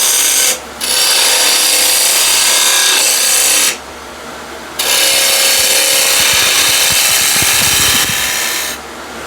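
A spindle gouge cuts into spinning elm wood on a lathe, giving a loud, steady hissing scrape in long passes broken by two brief pauses as the tool lifts away.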